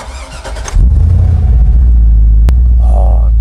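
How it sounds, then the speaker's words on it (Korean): A Hummer H2 engine cranks and catches at once, then settles into a loud, deep, steady idle close by. A voice is heard briefly before it starts. "내가 시동 한번 걸어봐도 되지?"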